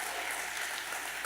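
An audience at a church sermon claps in a dense, steady round of applause that fills the whole moment, loud and close with no voices over it.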